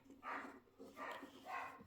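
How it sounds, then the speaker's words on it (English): A dog barks several times indoors, faint and somewhat muffled, in three short bursts at an even pace. "I'm singing to try and mask the sound of my barking dog"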